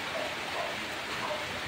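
Rain falls steadily outside a small electronics repair workshop, a continuous even hiss of drops on surfaces with no breaks and no voices.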